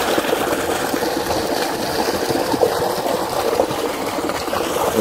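Water pours steadily from a solar-powered tube well pump in Pakistan, running from morning to afternoon into a field of okra. It makes a constant, fairly loud gushing trickle with no pauses and no voices.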